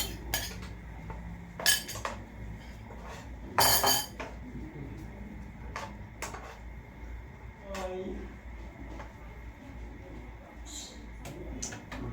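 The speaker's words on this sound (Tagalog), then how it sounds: "Halo ko lang yung sabaw ko." A spoon clinks against a pot while soup is stirred, a few sharp metallic taps and scrapes scattered among quieter kitchen noise, with people talking nearby.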